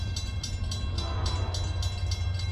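Steady rumble of a freight train led by two locomotives rolling past, deep engine drone with rhythmic rail clatter repeating through the whole stretch.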